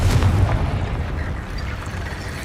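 Confringo fire spell explosion in a Harry Potter video game, a heavy booming blast that rumbles loudly at the start and then fades into a low roaring tail, with no talk.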